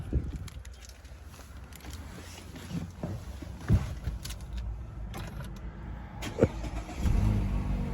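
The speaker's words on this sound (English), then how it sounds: "Turn the car on." A 2019 Mazda CX-3 is started from the driver's seat: a few soft clicks and thumps, then the engine cranks and catches near the end, settling into a low idle rumble.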